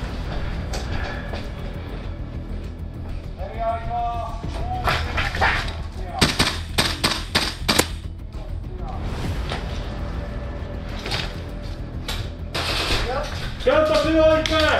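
Airsoft gameplay with a Tokyo Marui MWS gas blowback rifle: sharp bursts of rapid clattering shots come in several separate volleys, with players talking and calling out between them.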